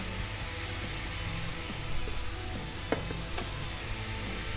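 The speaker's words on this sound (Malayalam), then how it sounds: "ഇങ്ങനെ ചിക്കി ചിക്കി ചിക്കി നമുക്ക് പൊരിച്ചെടുക്കാം." Spiced beef, seasoned with Kashmiri chilli powder and pepper powder, dry-frying in a pan, giving a steady sizzling hiss with a few faint clicks of stirring and no voices.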